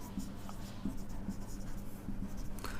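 An equation is written by hand during an algebra lesson, with soft intermittent pen or chalk scratches over a low steady background hum and no speech.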